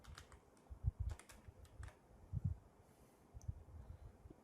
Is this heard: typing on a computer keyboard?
yes